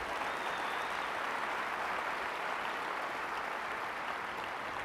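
Steady, dense audience applause at a talk on behavior change, a large room of hands clapping evenly and continuously without a break, moderately loud and fairly close.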